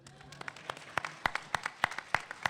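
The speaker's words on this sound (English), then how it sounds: "Give me a round of applause for that." Scattered clapping from a small audience at a business networking event for minority suppliers, with distinct individual claps picking up in pace and volume and a faint voice in the background.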